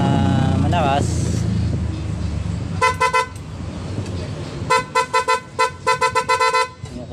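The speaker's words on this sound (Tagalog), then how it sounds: "Tapos kapag bubusina na malakas" A loud aftermarket horn on a TMX125 motorcycle blares in a short burst, then in a quick series of sharp honks, close and loud over a running engine.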